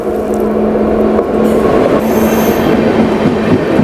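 A Garib Rath express train runs from Coimbatore to Bengaluru, a loud, steady rumble of wheels and carriages heard from on board, with a sustained tone and a brief high squeal partway through.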